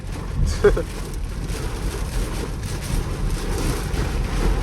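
Heavy rain and wind from a thunderstorm roar steadily outside a 2021 RT Dodge Durango on a night drive, muffled through the cabin as a low continuous wash with a brief sharper knock near the start.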